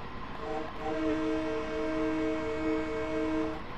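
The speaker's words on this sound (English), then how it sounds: "this train has a nice horn." An M3 EMU electric commuter train in the Train Sim World 2 game sounds its horn, a loud multi-tone chord held for about three seconds over the low rumble of the moving train.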